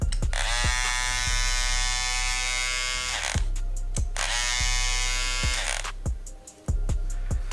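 Electric hair trimmer, a Babyliss FX3 or Andis GTX, running in two long bursts of steady high-pitched motor buzz, close and loud, separated by clicks as it switches on and off.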